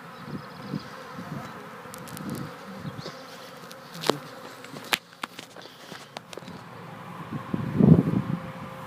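Busy honeybees hum around a farmyard hive entrance as foragers bring in pollen, a close continuous buzz with individual bees swelling past the microphone, joined by scattered footsteps and handling knocks.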